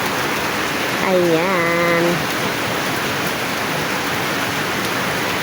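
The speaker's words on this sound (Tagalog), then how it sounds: "Sobrang lakas ng ulan." Heavy rain pours down in Pampanga, Philippines, in a steady dense hiss, with a brief voice cutting through the downpour.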